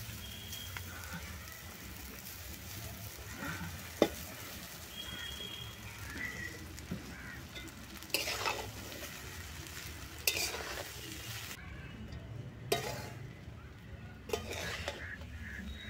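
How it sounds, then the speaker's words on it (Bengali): Cooked rice being stir-fried in a pan for Christmas-special fried rice, a steady soft sizzle with scraping stirs and a few louder clatters of the spatula against the pan, no talking. "এবার এর মধ্যে ফ্রাইড রাইসের ভাত দিয়ে দেব।"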